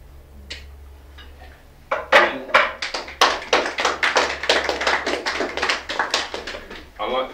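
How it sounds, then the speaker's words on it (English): An audience applauds at an outdoor bush poetry reading at Harris' Organic Vineyard. The clapping starts suddenly after a quiet pause and continues as a steady, fairly loud patter of many hands until the end. "I like the clapping"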